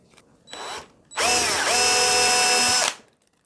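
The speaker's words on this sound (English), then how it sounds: "I'm just going to drill those out." An electric drill fitted with a 2.5mm bit bores screw holes in the legs of a scratch-built guitar: a short whir, a pause, then one long, loud, close spin that winds down and stops abruptly.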